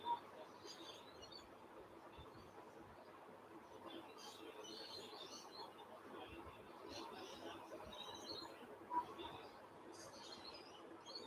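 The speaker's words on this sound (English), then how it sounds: "the birds are loud this morning" Birds chirp outdoors in the morning, scattered high tweets coming and going at a distance, faint over a soft steady background hush.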